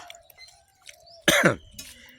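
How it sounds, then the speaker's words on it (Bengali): A single sharp cough from someone with a cold bursts out close by against a quiet room with faint background sounds. "কাশি হয়ে গেছে"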